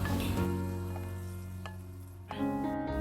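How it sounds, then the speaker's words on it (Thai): Chicken with lemongrass and basil leaves stir-frying in a hot pan, a steady close sizzle with a brief stir near the end. "อย่าผัดนานเกินนะคะแค่ผักสลดก็เอาขึ้นได้เลยค่ะ"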